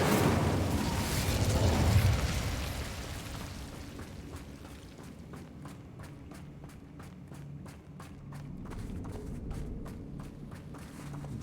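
A fire spell cast in the video game Hogwarts Legacy, opening with a loud roaring burst of flame that fades over a few seconds into quieter game ambience with a run of rhythmic footstep-like taps.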